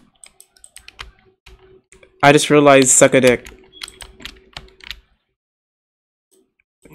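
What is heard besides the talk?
computer keyboard typing and clicking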